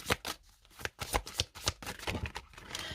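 A deck of tarot cards being cut and handled, giving a quick series of crisp papery riffles and slaps, close up and fairly soft, with no voice over them.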